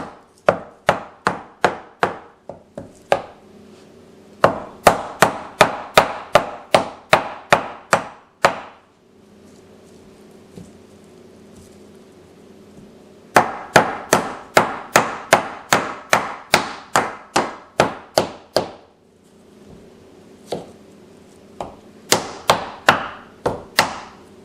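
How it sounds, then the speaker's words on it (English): A hammer repeatedly taps half of a coconut shell to crack it open, producing sharp, evenly spaced knocks in long rhythmic runs separated by short pauses, close and distinct. "tap 1/2 of the coconut shell with a hammer several times to crack the shell open"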